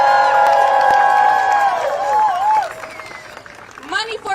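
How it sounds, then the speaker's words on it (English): A crowd at an anti-Trump tariff protest rally in the United States cheers and whoops with high, sustained shouts over clapping, fading briefly before another burst of cheering rises at the end. "Welcome her, clap her as she comes up."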